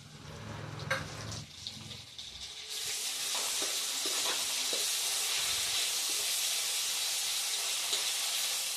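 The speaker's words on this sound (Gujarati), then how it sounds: "ટમેટું તેલમાં સાતળી જાય" Chopped tomato hits hot oil in a pan for dal dhokli. A few soft clinks come first, then a loud, steady hiss of sautéing that fills the rest of the time.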